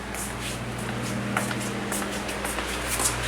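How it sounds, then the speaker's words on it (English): Electric fan running steadily nearby during a car cowl panel job, a constant broadband whoosh with a low steady hum underneath, unbroken for the whole stretch. "Excuse the noise of the fan"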